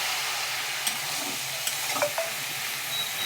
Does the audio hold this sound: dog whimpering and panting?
no